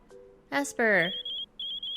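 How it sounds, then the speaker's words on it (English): An expedition gadget in the Pokémon Super Mystery Dungeon game rings with a series of short, bright electronic beeps repeating in a quick pulse, just after a brief voiced game sound. "Oh, is that the expedition gadget ringing?"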